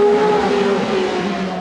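A 1982 Alfa Romeo 182 Formula One car with a 3.0-litre engine runs on a race track, its loud, steady engine note holding a high whine that eases slightly as it goes by.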